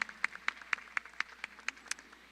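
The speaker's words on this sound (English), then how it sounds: "A warm round of applause for these wonderful families." A few people at a high school graduation clap for graduating families, with sparse, evenly spaced individual claps ringing out about four per second, close and distinct in a quiet room.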